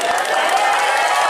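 Audience applause with some cheering at a humorous Sundanese sermon by Ustadz Nana Gerhana, a steady loud wash of clapping from a crowd nearby.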